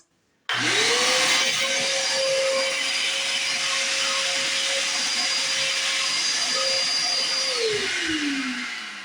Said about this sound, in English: I'm going to hit that with the vacuum just briefly.